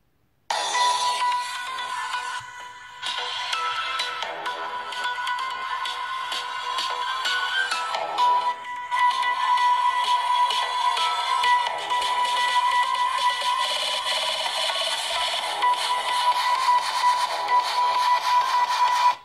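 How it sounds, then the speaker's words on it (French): Music plays through the loudspeaker of an Oukitel Mix 2 smartphone, bright and thin with little bass, steady and fairly loud from start to finish with no talking. "On va maintenant écouter le haut-parleur."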